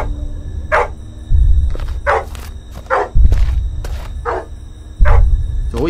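Dog barking in the Vietnamese-made horror game Blood Field, with about seven sharp barks spaced at irregular intervals, fairly close and loud over low rumbling ambience and footsteps.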